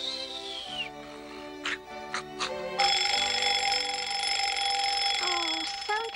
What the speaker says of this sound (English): sometimes I wish I had an alarm clock that didn't oversleep